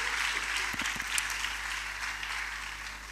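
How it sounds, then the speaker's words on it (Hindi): An audience at a church leadership conference claps together in a sustained burst of applause, dense and steady, with no talk over it. "Can we just put our hands together for these wonderful आइए हम people?"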